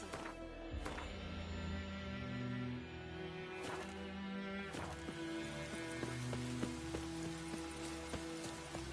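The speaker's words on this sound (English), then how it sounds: "Keeps pouring like this on the boat." Rain pours on a boat in The Witcher 3, a steady wash of hiss that runs the whole time beneath sustained tonal game music, with a few sharper knocks and splashes along the way.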